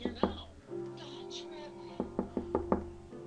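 Knocking on a door in the Facade video game: one knock near the start, then a quick series of five sharp raps toward the end, heard over a low steady background hum with speech in the scene.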